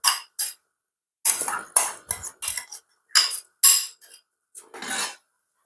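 Washed rice tipped into a pot while cooking Jamaican rice and peas: a close series of short rattling, clinking bursts as grains and utensil hit the pot, with brief pauses between pours.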